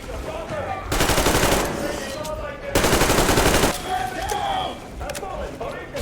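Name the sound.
gunfire in video game Metro Exodus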